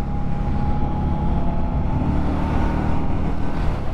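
An Indian Scout Bobber motorcycle on a test ride, with a continuous loud engine drone and road and wind rumble that stay steady throughout, plus a faint constant whine and no speech.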